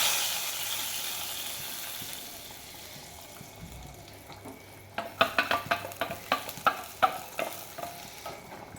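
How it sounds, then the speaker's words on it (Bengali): Hot tempering is poured into cooked lentil dal in a kadai, a soft sizzle giving way to a series of rhythmic clanks and scrapes as the pot is stirred, no talking. "ডালটার মধ্যে আমি এইটা বাগার দিয়ে দেবো।"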